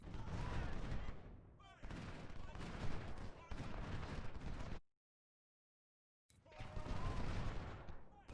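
Musket volleys roll out in a Civil War battle game, dense crackling fire in long sustained bursts that cut off into silence before another volley starts, loud and continuous.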